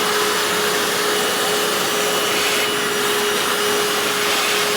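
Hoover FloorMate Deluxe floor cleaner running in a bathroom, a loud, steady motor roar with a constant whine that holds evenly throughout, with no talk over it.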